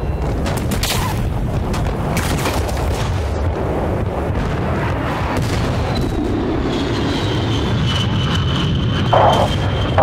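Aircraft gun run strike in the Battlefield Bad Company 2 game, a dense roar of rapid cannon fire and booming impacts with a jet engine whine passing overhead, loud and continuous with a final burst.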